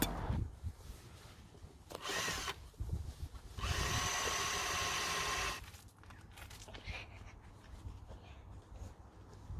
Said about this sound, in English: going to drill into that little seat and make sure that her legs are hooked on